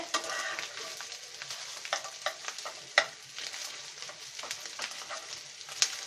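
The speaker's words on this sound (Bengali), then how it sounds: "আমরা খুব ভালো করে ভেজে নিচ্ছি নেড়ে নিচ্ছি" Rohu fish roe fries in oil with a bright crackling sizzle, broken by scraping spatula strokes and a couple of sharp clinks against the pan, close and moderately quiet.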